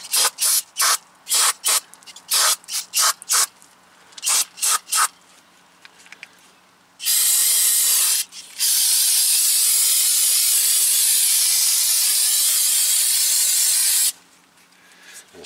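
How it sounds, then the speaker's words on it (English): Aerosol brake cleaner sprays onto the front brake caliper of a 2000 Nissan Maxima, first in a quick series of short hissing bursts, then in a long, steady, close-up spray that lasts several seconds. "sprayed it down really good because we want to get as much brake fluid off of it as possible"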